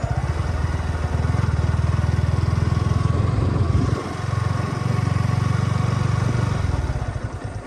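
A 2024 Yamaha R15 V4 sportbike on a test ride gives a steady, buzzing engine drone that dips briefly midway and then holds again, fairly loud with no talk.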